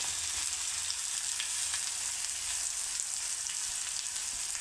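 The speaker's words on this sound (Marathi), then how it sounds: "लगेच आता आपल्याला कांदा घालून घ्यायचा आहे।" Thinly sliced onion hits hot oil already holding garlic cloves, giving a continuous bright crackling sizzle, close and steady, with no voices.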